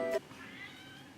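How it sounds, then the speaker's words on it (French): A cat gives a short meow, faint and a little distant in a quiet room, fading into soft background sound. "Puis il y a un chat qui a miaulé"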